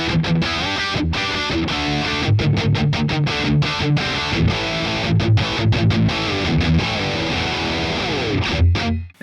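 Electric guitar riff played dry through a BOSS Katana 50 MKII amp and recorded over USB, loud and distorted with choppy stops and restarts, no voice.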